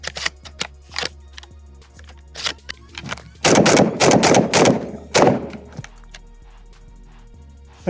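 Sharp repeated shotgun blasts from a Panzer M4 semi-automatic shotgun on its first outing, a few spaced single shots followed by a dense rapid string of loud, close reports.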